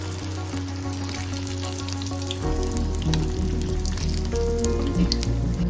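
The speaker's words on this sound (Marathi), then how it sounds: "मी एक एक घालून असा तेलामध्ये गोल्डन ब्राऊन असे तळून घेणार आहे." Chicken spring rolls deep-fry in hot oil with a continuous bubbling sizzle, joined partway through by a louder low hum and bright clinks, close and without talk.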